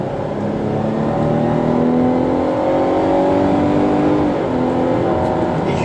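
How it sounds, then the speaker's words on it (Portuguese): A Dodge Journey's engine revs up under acceleration, a loud, steady drone that rises in pitch as the harmonics climb, then shifts slightly near the end, heard from close range with no talk. "Deixa eu acelerar agora"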